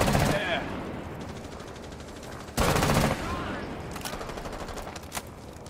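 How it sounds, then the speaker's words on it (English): Gunfire in Rainbow Six Siege, two sharp bursts of shots separated by a couple of seconds, followed by scattered fainter clicks and pops, with game sounds continuing underneath. "I just shot him through the wall"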